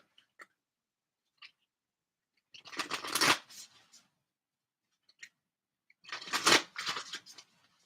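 Moonology oracle card deck being shuffled in two close bursts of riffling and flapping cards, separated by quiet taps and silence.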